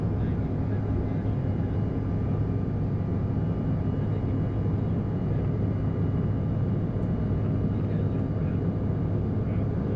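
CRJ550 jet airliner climbing after a rolling takeoff from O'Hare: a constant deep, loud engine and airflow roar fills the whole stretch without breaks.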